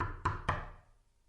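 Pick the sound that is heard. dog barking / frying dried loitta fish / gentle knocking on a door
gentle knocking on a door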